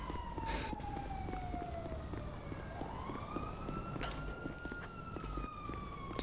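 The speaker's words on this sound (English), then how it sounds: "Going towards the sirens" Emergency vehicle sirens in a GTA roleplay video game, a wailing tone sweeping down then rising and holding, heard at moderate distance over a constant rushing background.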